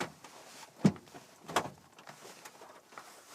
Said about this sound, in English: I'd have to open the doors like this.